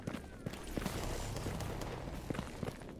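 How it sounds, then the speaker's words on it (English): Scattered faint gunshots pop far off in the game Stalker GAMMA, irregular and muffled beneath a low ambient rumble. "Hear a lot of gunfire in the distance"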